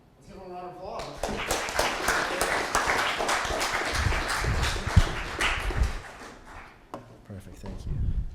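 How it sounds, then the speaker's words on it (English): Audience members at a 2019 business pitch competition applaud a team after its pitch: sharp, uneven clapping starts just after a voice, swells and then thins out, with speech returning near the close. "Let's give them a round of applause."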